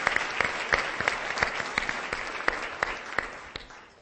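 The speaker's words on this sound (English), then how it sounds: "Let's give Tim Lorton and all of his team a round of applause for organizing another great conference." A conference audience gives a round of applause, many hands clapping in a dense patter with sharper individual claps standing out, moderately distant, tapering off toward the end.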